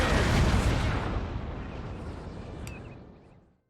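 A deep, booming artillery cannon blast in Napoleon: Total War rolls out and slowly decays over a few seconds, loud at first and fading to silence.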